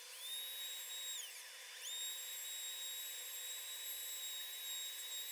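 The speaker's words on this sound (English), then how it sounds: "use this router bit here, and I'm going to add a small step onto the back side of this piece" A router bit spins at high speed while cutting a step into a wooden subwoofer box panel, giving a steady high-pitched whine that briefly sags in pitch under load before recovering.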